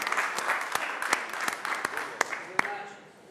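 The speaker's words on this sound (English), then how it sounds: "a round of applause for Marco Crotta from Foodchain" Applause greets a speaker called up to pitch at a workshop event. Scattered, fairly close claps sound under a talking voice and thin out toward the end.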